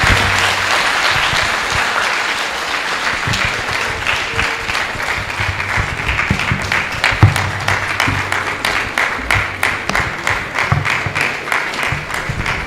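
Loud, close audience applause at a university oath-taking ceremony, sustained throughout with individual claps standing out sharply in a dense, even rhythm.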